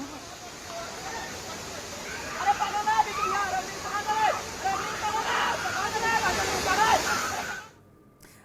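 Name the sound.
flooded river rushing water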